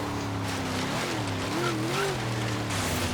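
A flat-plane-crank V8 sports car in Forza Horizon 3 holds a steady, droning engine note that rises and dips in pitch as the revs change, with faint tire noise underneath and no talk.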